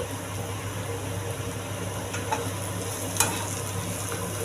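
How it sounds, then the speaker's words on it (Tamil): Vadagam sautéing in a pan for a village-style Tamil thuvaiyal chutney gives a steady, even sizzle with a faint scrape of stirring, close and continuous, with no one speaking. "வடகம் போட்டு வதக்கிங்க வடகம் போட்டு ரொம்ப நேரம் வதக்கக்கூடாது"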